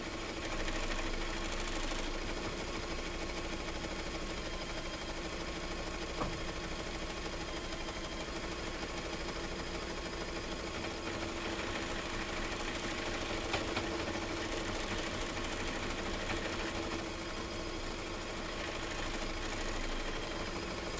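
An embroidery machine stitches a detailed design, a steady, continuous rapid mechanical chatter and hum holding an even level throughout with no talking.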